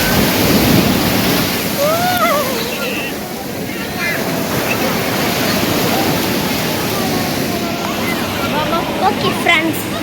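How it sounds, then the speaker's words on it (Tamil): A large ocean wave rolls in with a broad, steady wash of surf and wind buffeting the microphone for about ten seconds, loud and close, with faint voices beneath. "பெரிய அலை வந்துட்டு இருக்கு."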